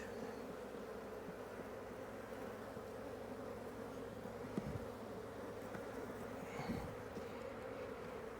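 Honey bees from an opened hive buzz in a dense, steady drone during fall beekeeping work, close and continuous, with a couple of brief knocks of hive equipment.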